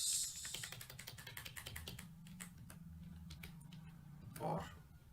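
Fast typing on a computer keyboard, rapid light key clicks in bursts and then a few slower taps, faint and close, with someone speaking quietly underneath.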